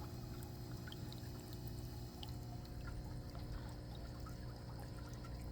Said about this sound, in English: the pump will run for about 45 minutes to an hour and a half. So as the water comes up, as you can see, it's coming up.